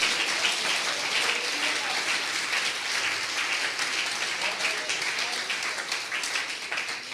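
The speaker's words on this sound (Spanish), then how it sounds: "A ver, un aplauso a Jesucristo, hermano" A church congregation applauds for Jesus Christ, dense sustained clapping from many hands filling the room at a steady loud level, with some voices mixed in.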